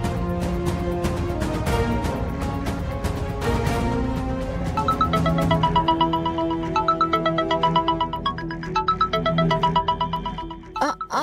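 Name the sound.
phone ringing with incoming call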